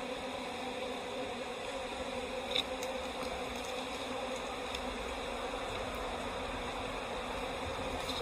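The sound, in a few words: honey bees buzzing around an open hive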